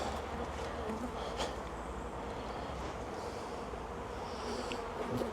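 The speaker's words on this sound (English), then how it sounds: "Shake the bees off of here" Steady, dense buzzing of honey bees shaken off a hive frame while two hives are merged around a mated queen, a continuous close swarm drone with no break.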